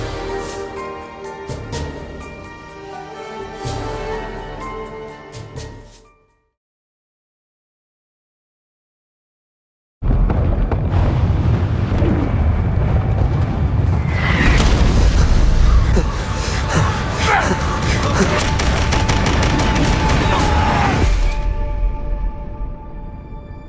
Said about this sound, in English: the constant deafening sound of the bombs